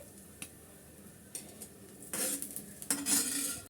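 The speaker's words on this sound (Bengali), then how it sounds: "আমি এখন সম্পূর্ণটা উঠিয়ে নিচ্ছি ফ্রাই প্যান থেকে" A spoon clinks a few times against a frying pan, then scrapes steadily across it as fried food is scooped out. Quiet, close, no voices.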